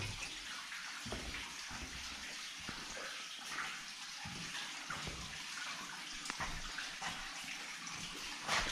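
Water flows steadily through a limestone cave in Okinawa, Japan, a soft, continuous rushing and splashing with a few sharper trickling bursts, fairly quiet and close, with no voices.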